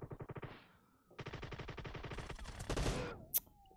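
Automatic gunfire in PUBG Mobile: rapid close bursts of shots in quick succession, a short pause, then a longer sustained burst ending in a louder crack, with no talking.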